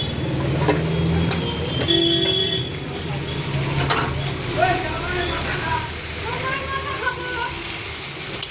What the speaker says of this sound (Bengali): পেঁয়াজ ভাজতে ভাজতে মশলা আদা রসুনও ভাজা হবে, চিকেনটাও ভাজা হবে